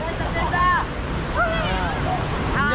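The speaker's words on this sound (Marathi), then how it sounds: "पाण्याचा खूप आवाज येतो" Loud rushing river water during a stormy first rain, a steady broadband roar mixed with wind buffeting, with voices of people talking and calling over it.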